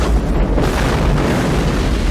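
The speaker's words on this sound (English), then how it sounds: "Like a little nuclear explosion." An explosion in the 1992 film Patriot Games booms with a loud, heavy rumble that rolls on as a sustained roar, dense and forceful throughout.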